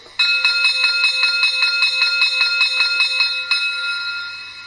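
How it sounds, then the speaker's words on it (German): A bell on a Gauge 1 model steam locomotive, a Bavarian D XII class 73 by Spur1-Exklusiv, rings in a quick, steady series of about a dozen bright metallic strikes. The last stroke is left to fade. "Dann eine Glocke."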